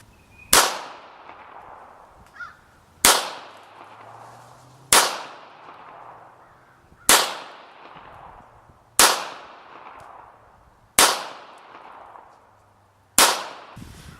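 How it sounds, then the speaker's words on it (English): A Beretta 92SB pistol is fired at a target, seven loud sharp shots spaced about two seconds apart, each with a short echoing decay, heard alone outdoors. "I'm going to take a few shots on target"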